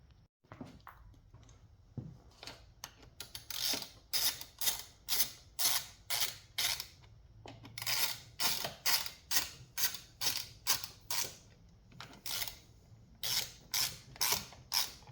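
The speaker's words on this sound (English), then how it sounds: "We'll be using a socket and a ratchet." A socket and ratchet tightens bolts on a DeWalt 3100 psi pressure washer during a carburetor job, giving steady bursts of rapid ratchet clicks in a regular back-and-forth rhythm, close and fairly loud.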